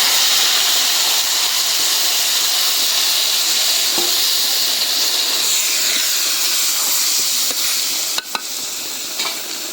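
Greens (boitta shak) dropped into a hot pan sizzle with a loud, steady hiss and crackle close by, followed by a couple of sharp utensil knocks near the end, with no talk.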